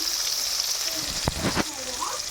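Chana dal, urad dal and mustard seeds fry in hot oil for tempering with a steady close sizzle, broken by a couple of sharp pops or spatters midway.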